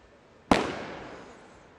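A single sharp sniper gunshot at a SWAT team competition in the UAE, one loud crack followed by a long reverberant tail that fades over about a second, with no talking.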